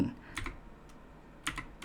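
Quick clusters of key clicks from a computer keyboard being typed on, close up and moderately loud, with two short bursts separated by a quiet pause and no voices.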